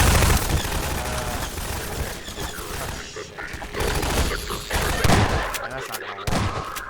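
Rapid gunfire bursts from a Half-Life 2 firefight against enemies on a gunner tower, dense and continuous with booming impacts, staying loud throughout.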